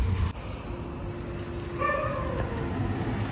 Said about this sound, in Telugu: కుక్కలన్నీ నన్ను సరికిలేస్తున్నాయి.